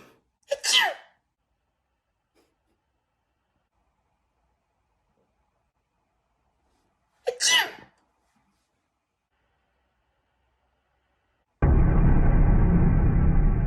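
Two sharp sneezes, separated by several seconds of silence, then a burst of steady hiss at the end.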